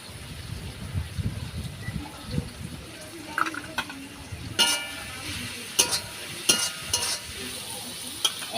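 Green chilies frying in a pan for a village saag dish, with a soft sizzle under scattered stirring scrapes and sharper clinks of a spoon later on.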